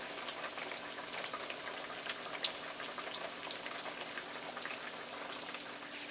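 Snapper fish fry in a pan of oil, giving a dense, steady crackling sizzle with fine popping throughout and no voices.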